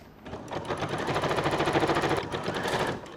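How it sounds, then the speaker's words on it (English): A sewing machine runs in a steady rapid rattle of stitches, sewing lace onto a christening gown, loud and close with a brief pause near the end and no talking. "now I'm going to stitch it again"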